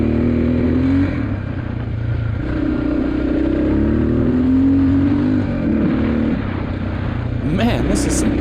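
A Honda XR600R motorcycle runs hard along desert double track, its engine a loud, steady near drone that rises and falls with throttle, with wind and rattling along the way.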